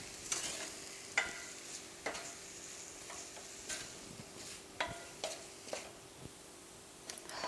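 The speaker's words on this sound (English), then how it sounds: "Let's give this a stir" Chicken quesadilla filling seasoned with cumin is stirred in a frying pan, a utensil scraping and tapping at irregular intervals over a soft, steady sizzle.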